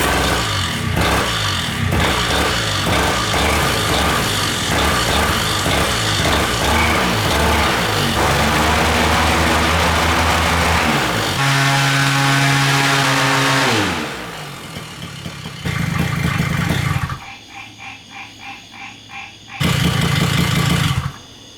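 An engine mounted on a test rack is cranked and runs roughly with a faulty carburetor, giving a loud, uneven rumble that shifts pitch, cuts back to a sputtering idle and then surges again.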